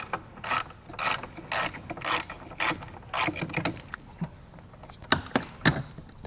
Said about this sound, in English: we need to take a 10mm and we're going to take off this little nut here that's on the battery